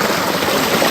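Small waterfall tumbling over rocks at a koi pond, a steady close rush of splashing water with no break.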